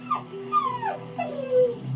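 A dog whimpers in a series of high, drawn-out whines that slide downward, four or five cries close to the microphone with no talking.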